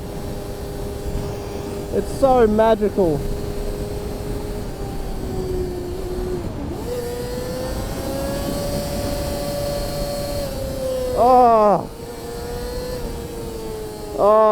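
A close old motorcycle engine drones steadily, then revs sharply upward in rising whines a few times, with a person talking briefly over it.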